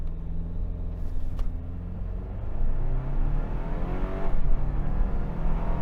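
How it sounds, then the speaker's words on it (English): A 2025 Toyota 4Runner SR5 launches from a torque-brake start and accelerates hard toward 60 mph, its engine droning loud and close inside the cabin as the pitch climbs steadily, with a brief shift-like dip partway. "we're going to torque brake and do a little 0 to 60"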